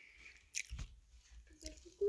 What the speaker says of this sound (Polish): Gryzę.